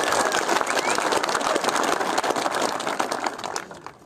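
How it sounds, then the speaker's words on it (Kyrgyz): A crowd at a rally in Batken applauds for a girl named Anara, dense clapping holding loud and steady before thinning out toward the end, with some voices mixed in. "Анара деген кызга бир кол чабуулар"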